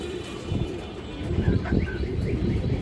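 Sobji pigeons at a pigeon farm coo in soft, repeated low calls over a steady background murmur, with a few faint chirps mixed in.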